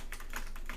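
A handful of soft, muted keystrokes on a mechanical keyboard fitted with silent red switches, five quick dull taps close by in under a second, with no voices.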